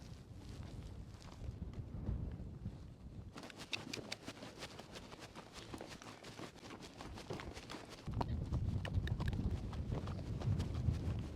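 Horses walk across the Mongolian wilderness on a long trail ride, their hooves clip-clopping in a steady, close rhythm under wind noise.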